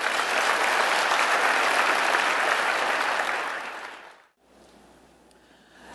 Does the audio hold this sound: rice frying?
no